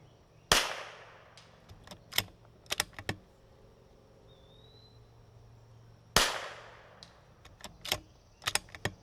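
Two sharp, loud .22LR rifle shots fired at a target on a 150-yard berm, about six seconds apart, each followed by a cluster of quieter clicks and clacks of bolt or action handling in an otherwise quiet outdoor setting.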